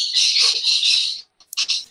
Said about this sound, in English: Dude, you have got some loud birds.